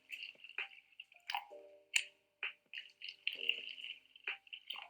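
Regular bottled water is poured into cups, giving close, irregular trickles, drips and splashes with short pauses between pours.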